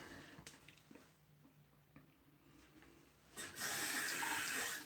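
Water pours into a vessel, starting as a few faint drips and splashes before a steady, louder running stream takes over near the end, heard up close.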